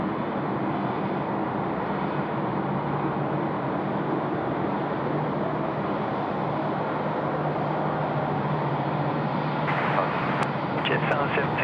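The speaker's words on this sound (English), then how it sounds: "Jetstar 992 in from Melbourne, the A321" A Jetstar Airbus A321 arriving from Melbourne at night gives a steady, moderately faint jet hum, with a sustained low tone underneath and some brief higher clicks and chirps near the end, voices present.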